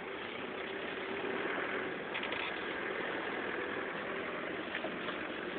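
A car engine is driven off in first gear during a driving lesson, a faint, steady low engine drone with slight swells and no one speaking.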